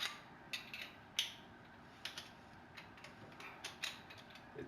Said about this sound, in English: You're going to take your 5/8" wrench, just unscrew both ends of the gun.